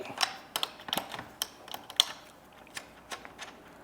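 A tool loosens the locking nut on the axle adjustment bolt of a BSX pit bike, giving a quiet, irregular series of sharp metallic ratcheting clicks heard close up in a calm space.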